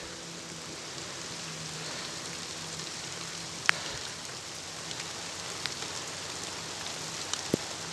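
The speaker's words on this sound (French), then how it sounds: "Voilà, vous entendez la pluie?" Steady rain during a thunderstorm in Mauritius, a dense even hiss of drops hitting surfaces, with a few sharper drips and taps standing out close by.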